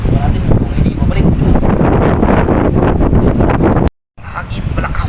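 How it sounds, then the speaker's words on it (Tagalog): Strong wind during bad weather on a coastal fishing trip roars and buffets the microphone almost continuously, with a brief dropout near the end before the gusting resumes. "Malakas ang hangin."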